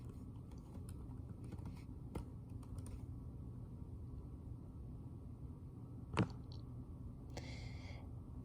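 Someone types an email login on a computer keyboard: a few faint, scattered key clicks over a low background hum, with one sharper tap near the end.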